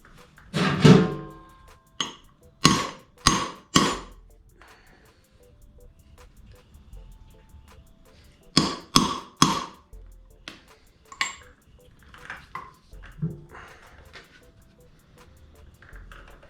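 A metal punch struck with a hammer to cut bolt holes in a clutch cover gasket on a KTM: sharp clustered taps in small bursts of two to four blows, separated by quiet pauses, close and distinct.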